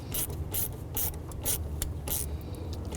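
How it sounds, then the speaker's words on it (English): A 1/4-inch ratchet clicks through short repeated strokes, tightening a hose clamp while installing a performance air intake on a 2006-2011 Honda Civic; loud, close, rhythmic bursts of ratcheting with no talking. "Using a 1/4" ratchet, I'm going to go ahead and put this hose clamp on."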